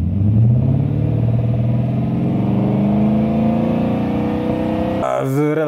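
A 1990s GS sedan's V8, the same engine fitted to the LS, runs with a smooth, steady, velvety hum and rising tonal drone, loud and close, cutting abruptly into a different sound near the end.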